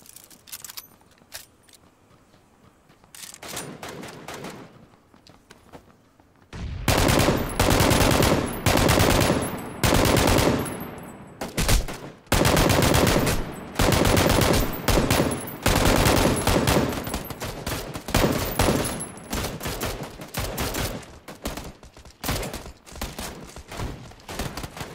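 Bursts of M249 machine gun fire in PUBG on Xbox, quiet at first, then long loud stretches of rapid automatic shots with short gaps between volleys, up close.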